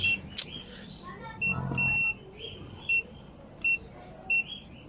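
Several short, high electronic beeps from a multimeter continuity test on amplifier transistors sound at a steady pace, each clear and close, with a low murmur of background noise and a brief voice between them.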